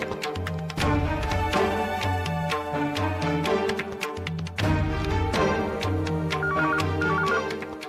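A telephone rings with a melodic ringtone that repeats continuously over a steady musical background, loud and close, with no talking.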